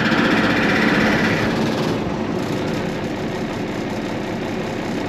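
An old military 5-ton truck's heavy engine turning over and settling into a rough, rumbling idle, loud and steady with a slight shift in tone as it catches.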